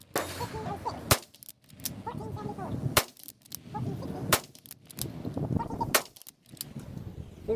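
Clean22 .22 rimfire rounds fired through a chronograph at an outdoor range: four sharp, loud cracks spaced about a second or more apart, each standing out against background voices and ambient noise.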